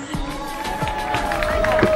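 An audience in Nepal applauding and cheering for a singer, a dense crowd roar that holds steady and swells slightly, with musical tones ringing through it.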